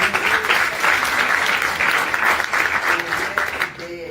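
An audience claps at a conversation event about the Beijing Women's Conference, with loud, dense applause that pulses slightly and carries faint voices underneath before tapering off at the end.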